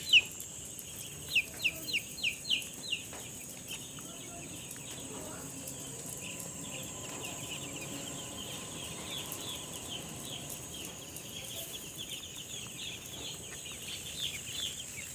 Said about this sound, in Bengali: আবার ফার্মে নতুন করে ব্রয়লার বাচ্চা তুললাম